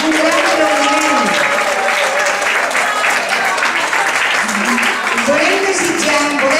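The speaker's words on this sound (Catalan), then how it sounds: "Això és un fort aplaudiment, un gran aplaudiment." Loud, sustained applause fills a hall at an association's gala night, with voices calling and talking over the continuous clapping from start to finish.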